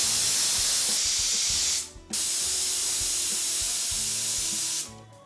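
A pressure cooker vents steam while achari mutton cooks inside. A loud, steady high hiss cuts off briefly, resumes, then stops, with no talking.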